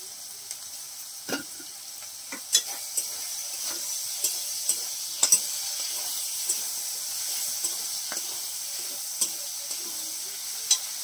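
Prawns sizzling in a pan with tempering spices, giving a steady frying hiss with scattered small pops and crackles throughout.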